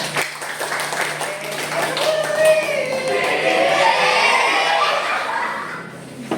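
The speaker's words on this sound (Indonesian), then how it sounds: "Tepuk tangan untuk kelompok" A classroom of students applauds a presenting group during a chemistry project lesson, a dense wash of clapping mixed with chuckles and talking voices, rising in the middle and tapering off.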